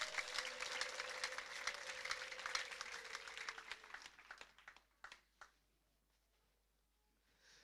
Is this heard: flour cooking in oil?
no